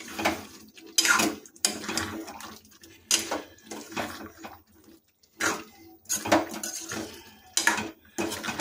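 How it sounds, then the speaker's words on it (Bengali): Shol fish curry with ground spices is stirred in a pan, heard as loud, irregular bursts of metal spoon scraping and clanking against the pan, separated by short quiet gaps. "এটাকে আমরা ভালোভাবে নাড়িয়ে নেব"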